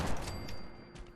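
A pistol fires a firework effect in Fallout 4 played with the Wabbajack mod, giving a short crackling burst of small pops that fades over about a second, faint and distant in the mix.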